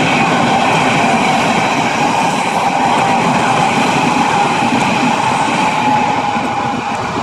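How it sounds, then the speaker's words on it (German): A Berlin S-Bahn commuter train rushes past close by, a loud, steady roar of wheels and carriages that fills the whole stretch without a break. "Die S-Bahn, meine Damen und Herren, die Berliner S-Bahn."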